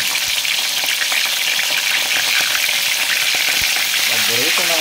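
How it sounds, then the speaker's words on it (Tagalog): Dangit fish sizzles and crackles in hot oil, a dense, steady frying hiss with occasional pops, close by. "Prito na po tayo."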